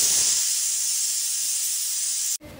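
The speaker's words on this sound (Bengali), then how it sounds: "ভিতরের ভাপটা বের করার পর ঢাকনা খুলে নিচ্ছি।" Pressure cooker with country chicken curry venting steam after cooking, a loud, steady close hiss that cuts off abruptly near the end.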